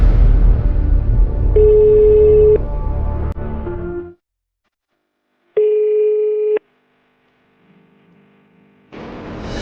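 A phone rings unanswered in a comedic skit, the ringback tone sounding in two steady bursts separated by silence, following a stretch of other sound and ending with a noisy rush.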